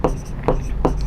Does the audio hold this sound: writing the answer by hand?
yes